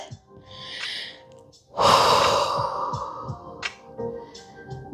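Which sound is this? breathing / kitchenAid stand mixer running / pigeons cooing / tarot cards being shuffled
breathing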